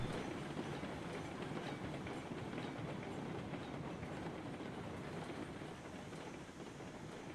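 Steady rumble and clickety-clack of a train rolling into town in the railroad video game Railroader, a continuous low noisy wash of wheels and cars with no pauses.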